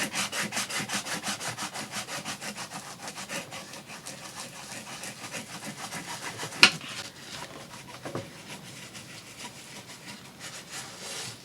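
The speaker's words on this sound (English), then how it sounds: "go over it with your bone folder. Make sure that that center is stuck really well." A bone folder rubbed back and forth over glued paper in steampunk journal making, giving a close, rhythmic series of quick scraping strokes with a couple of sharper taps partway through.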